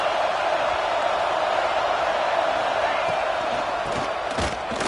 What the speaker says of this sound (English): Big third down in the red zone, and this crowd is getting behind this defense.